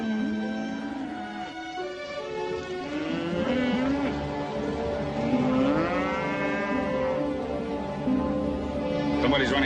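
Cattle moo repeatedly, long low drawn-out calls that rise and fall, loud and near, with a steady rumbling background.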